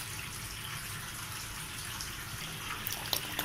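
Water poured into a pot for boiling rice, a steady gushing wash of liquid at close range that stays fairly even, with a few small clinks toward the end.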